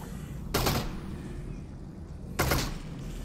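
Two sharp gunshots ring out in the virtual reality game Half-Life: Alyx, each a loud close crack with a short decay, a couple of seconds apart over a steady low background.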